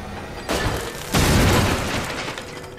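Explosions in the video game Resident Evil 2: a sharp blast followed moments later by a second, louder boom that rumbles and slowly decays, close and heavy.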